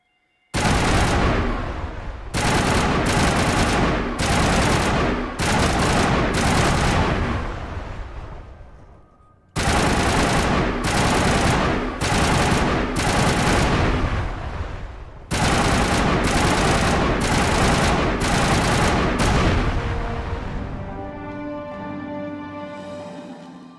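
Sustained bursts of automatic assault rifle fire in Mass Effect 1 Legendary Edition, three long loud rattling volleys separated by brief pauses, the last trailing into a ringing tonal decay.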